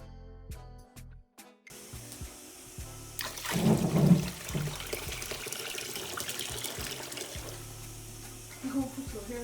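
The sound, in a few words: warm water being poured into a container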